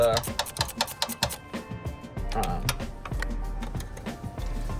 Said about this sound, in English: we'll get these things tightened down real quick